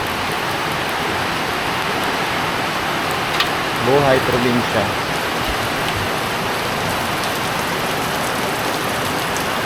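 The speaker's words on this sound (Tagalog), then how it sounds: "Malakas ang ulan habang nagluluto ng" Steady downpour in a rural setting, an even hiss throughout with a short voice passing over it midway.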